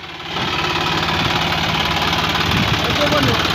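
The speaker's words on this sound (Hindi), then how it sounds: "बंद कर दे भाई ट्रैक्टर ने।" A John Deere 5050 D farm tractor's diesel engine idles steadily and close by in a field after ploughing, a continuous low rumble with knocking vibration that kicks in just after the start.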